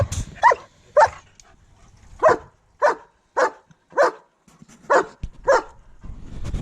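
A dog gives a series of about nine short, sharp yelps and whiny barks, evenly spaced, fairly close, with no talking, while a boat is being deflated.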